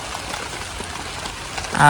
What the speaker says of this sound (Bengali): আর বৃষ্টি মনে করেন আপনার সারাদিন আজকে ছাড়বো না